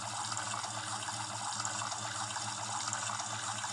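Water runs steadily from a kitchen tap for hand washing, a continuous broad splashing rush that stays even and close throughout with no talking.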